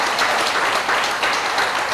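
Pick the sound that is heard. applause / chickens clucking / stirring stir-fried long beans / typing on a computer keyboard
applause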